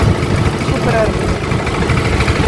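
A mini tractor engine idles close by in a steady, rough mid-low chug, continuous throughout, with people talking over it.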